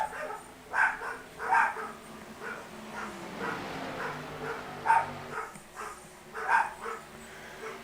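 Several dogs bark in bursts at irregular intervals, moderately near, over a steady low background hum from an iRacing Grand National Series race stream at Chicagoland.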